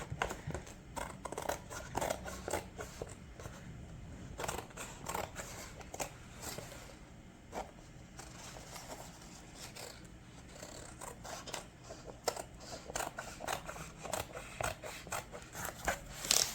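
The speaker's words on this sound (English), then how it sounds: "I'm just going to cut this with my scissors" Scissors snip repeatedly through paper in quick, uneven bursts, close and fairly quiet, with light rustling and crinkling between the cuts.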